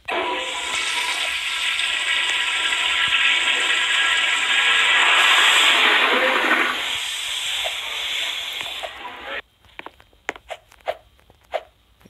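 A toilet flushing in the back restroom of a Kmart store in the Roblox video game, a long loud rushing, hissing flush of about nine seconds that cuts off abruptly, followed by scattered clicks and knocks.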